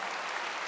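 Church congregation clapping together at a Wednesday worship service, a dense steady patter of applause filling the room for under a second.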